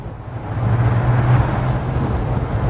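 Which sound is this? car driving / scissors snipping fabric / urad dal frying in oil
car driving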